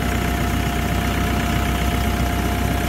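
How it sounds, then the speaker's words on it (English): A TYM 654 Korean-made tractor with snowblower, its engine idling in a steady, close, even drone with a low throb and no talk over it. "It's a TYM's Korean made tractor."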